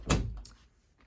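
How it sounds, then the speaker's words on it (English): A bedroom door is shut once, a single close thump with a short low rumble that fades quickly, near and alone in a quiet room. "and shut the door."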